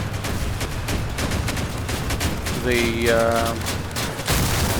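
Cannon shells firing in the vehicle combat game Crossout, a dense burst of heavy shots over constant battle noise, with a voice talking over the gunfire.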